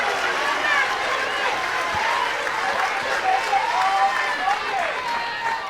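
Home crowd at a Georgia college softball game against Arkansas cheers and applauds steadily after a low strike call, a broad continuous roar from many fans with no break.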